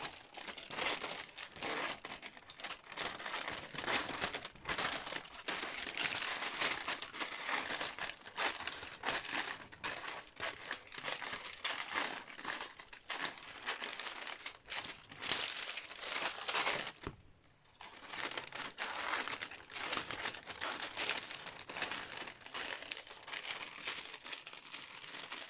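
Dress fabric being cut for a princess-dart dress, a steady faint run of crisp rustling and snipping crinkles close by with a brief pause in the middle; no one talks.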